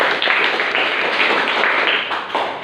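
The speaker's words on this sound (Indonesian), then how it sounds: "tepuk tangan buat Kezia" A fifth-grade classroom claps for a student named Kezia, a short burst of brisk, steady group applause lasting a couple of seconds before it thins out.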